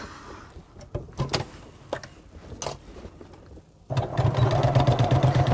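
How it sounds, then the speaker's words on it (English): Sewing machine stitching across the seam of a Wesley tote bag: scattered handling clicks first, then a steady loud motor whir running continuously to the end. "And now we're just going to sew across there."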